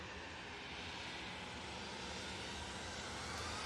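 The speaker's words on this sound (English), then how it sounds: "EasyJet now on the roll." An EasyJet jet airliner at Manchester Airport begins its takeoff roll, a steady, faint, distant broadband jet engine rumble that swells slightly toward the end, with no talking.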